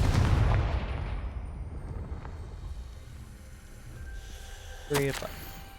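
A Confringo blasting spell explodes in the Hogwarts Legacy video game: a loud, booming burst opens the clip and fades into a rumbling tail, then a second sharp blast cracks out near the end.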